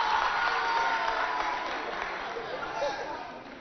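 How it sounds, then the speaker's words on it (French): A studio audience at a televised contest between children's charity teams claps steadily for Pierre, a broad wash of applause slowly fading over a few seconds, with faint crowd chatter underneath. "applaudissez pour Pierre"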